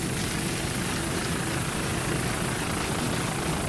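An offshore racing powerboat passes during a championship race off Key West, a steady, dense roar of engine and wind noise holding at a constant loud level with no talk.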